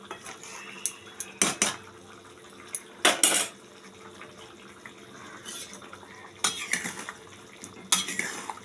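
A metal lid clatters onto a pot of chana dal dhoka curry, with several sharp clanks and scrapes of metal cookware spaced a few seconds apart over quiet room noise.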